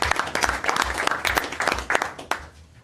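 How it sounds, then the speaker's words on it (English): Applause at a regular council meeting: a room of people clap steadily for a few seconds, dense and fairly close, then the clapping thins out and fades. "let's give him a round of applause."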